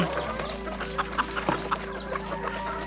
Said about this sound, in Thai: กองทัพไก่มาแล้ว